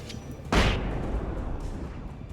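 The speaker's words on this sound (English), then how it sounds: "Flashbang." A flashbang in the video game Alan Wake goes off with one sudden loud blast, followed by a long rumbling, ringing tail.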